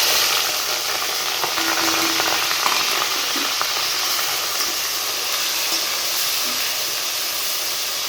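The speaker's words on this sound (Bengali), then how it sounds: "তেলটা গরম হয়ে গেছে আমি পেঁয়াজ কাটানো দিয়ে দেবো" Chopped onions sizzle steadily in hot oil in a wok while a bottle gourd and mutton curry is being cooked, a dense, continuous frying hiss that stays loud and close for the whole stretch, with faint clinks now and then.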